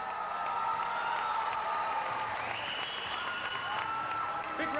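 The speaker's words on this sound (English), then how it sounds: "Big round of applause for our overall winner, Paul DeMayo, Boston, Massachusetts." Audience at a bodybuilding contest applauds an overall winner, a dense, sustained roar of clapping and cheering with whoops, while an announcer's voice carries over the crowd.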